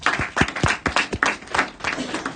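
A few people clap for a student after she answers a question in a classroom presentation, about a dozen sharp irregular claps over background murmur.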